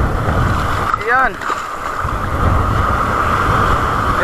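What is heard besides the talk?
strong wind and waves around a small boat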